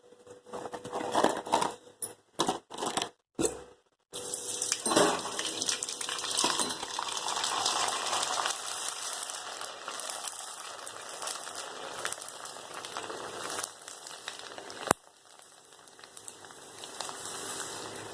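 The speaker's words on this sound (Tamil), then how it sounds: "இப்போ இது வந்து இது எண்ணெயில் போட்டு பொரிச்சு காமிக்கிறேன் உங்களுக்கு" Dried sago vadagam (javvarisi) hits hot oil with a few sharp clatters, then fries in a steady bright crackle and sizzle that slowly thins out, with one sudden click near the end.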